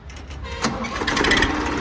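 An Indofarm 2050 tractor engine cranks and catches, then settles into a rough, loud idle up close.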